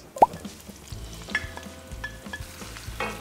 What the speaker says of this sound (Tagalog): we put the onions